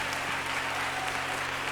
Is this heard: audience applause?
yes